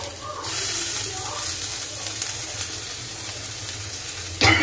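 Chopped ginger hits hot oil in a pan during dal tempering, giving a steady, close sizzle that holds for several seconds, with a sharper burst near the end.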